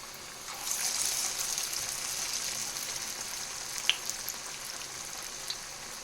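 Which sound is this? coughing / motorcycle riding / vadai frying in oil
vadai frying in oil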